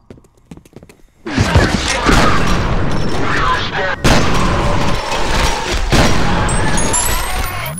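Heavy automatic gunfire from a powerful weapon in the first-person shooter F.E.A.R., loud continuous bursts with sharp cracks and booming impacts after a brief quiet start, with a voice talking over it.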